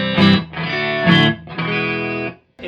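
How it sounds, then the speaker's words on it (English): A G&L ASAT Classic electric guitar on its neck pickup, played through a Marshall Plexi, rings out three bright, chimey chords in quick succession. Each strum has a sharp pick attack and sustains briefly before the next, close and loud. "So this is a real Fender-y, chimey sound."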